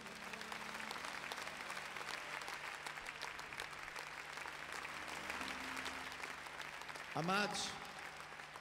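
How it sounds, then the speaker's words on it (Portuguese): Applause from a large church convention audience, steady and fairly faint, mixed with crowd murmur and a voice speaking near the end. "Para ele, uma grande salva de palmas."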